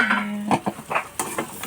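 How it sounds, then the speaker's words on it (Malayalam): A spoon stirring clam meat with onions in a pan, giving several close, irregular scraping and clinking strokes over a quiet background hum. "ഇളക്കി കൊടുക്കാം."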